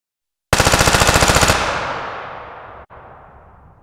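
A single long, rapid burst of automatic fire from an HK416 rifle, loud and close, lasting about a second, then a long echoing tail fading away.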